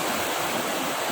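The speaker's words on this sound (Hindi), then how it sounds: "आप आवाज़ सुन सकते हैं इस पानी का कितना ख़तरनाक है।" Rushing floodwater of the Damodar river in spate, a loud, steady broadband roar of churning water heard up close with no break, alone and without voices.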